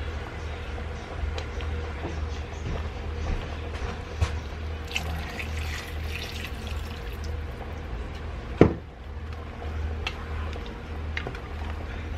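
Water pours steadily into a pot or bowl at close range, with a low background hum, light clinks and one sharp knock near the end.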